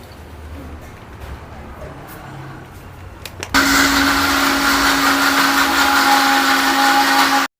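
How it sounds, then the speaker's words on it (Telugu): Quiet background, then a mixer grinder abruptly starts grinding soaked poppy seeds with water into a paste, running with a loud, steady whirring drone until it cuts off at the end. "ఇప్పుడు దీన్ని మెత్తగా మిక్సీ పట్టుకుందాం"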